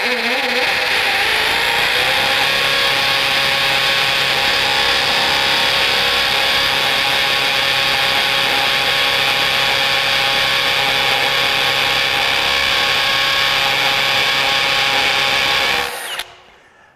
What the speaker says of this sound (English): This is a 1/2-inch masonry bit, and it's going to be a little bit big for this drill, but I want to listen to the noise level of what we have here.